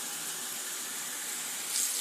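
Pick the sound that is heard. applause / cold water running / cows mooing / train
cold water running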